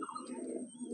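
A female Kalanka pigeon gives a short, close, steady low coo lasting about a second, with no voices around it.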